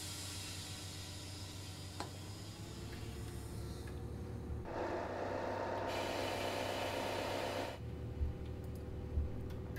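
Train brake releasing in Train Sim World 4: a sustained broadband air hiss rising midway and cutting off after a few seconds, over a steady low engine idle, with a couple of faint clunks.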